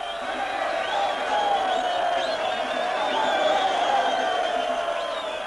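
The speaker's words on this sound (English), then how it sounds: "The biggest crowd ever seen in Rhodesia welcomed home the candidate most feared by the whites." A huge crowd in Rhodesia welcomes Mugabe home with a loud, sustained roar of massed voices that sounds like chanting or singing, continuous and unbroken throughout.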